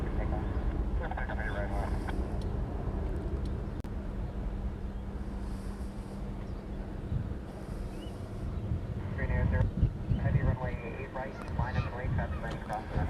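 A Hawaiian Airlines airliner departs Honolulu airport as a steady, distant jet rumble with a low droning hum, buffeted by wind on the microphone, growing slightly louder toward the end.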